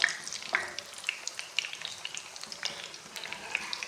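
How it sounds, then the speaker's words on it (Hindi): Chicken shami kababs frying in a pan over low heat, a steady crackling sizzle with scattered sharp pops, close and fairly quiet, with no voices. "इसको हल्की आंच पे मैं फ्राई करूँगी"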